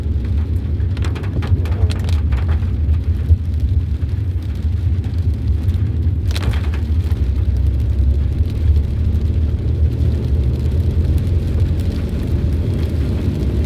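Heavy cyclone rain pours down steadily in Batticaloa, Sri Lanka, a loud dense roar of drops on surfaces with a low rumble underneath and no talk.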